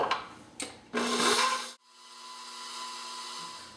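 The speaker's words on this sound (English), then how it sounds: "we're going to take one 8-ounce package of cream cheese, we're going to put it in our mixer, and we're going to cream it up with 1 stick of softened butter" An electric stand mixer creaming a block of cream cheese with softened butter, a few short motor bursts, then a loud whirring run that cuts off and settles into a quieter, steady hum.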